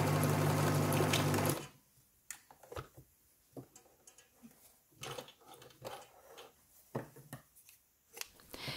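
An Elna Air Electronic TSP sewing machine stitches a seam in a fast, loud, steady whir for about a second and a half, then stops, followed by softer clicks and fabric handling nearby.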